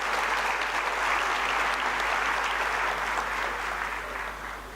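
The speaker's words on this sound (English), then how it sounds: "Can we have a big round of applause for them?" A crowd applauds at a bank's foundation day corporate celebration, sustained dense clapping at full strength that tapers slightly toward the end.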